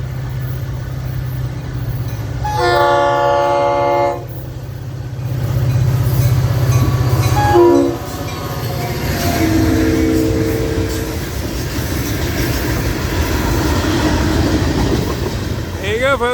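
A Florida East Coast Railway tribute locomotive sounds a loud horn in two long blasts while its diesel engine throttles up, rumbling steadily beneath, heard close by outdoors.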